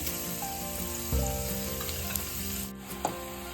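Onions and garlic frying on a high flame for beetroot chicken 65, a close, steady sizzle with a couple of soft stirring knocks, and no talking.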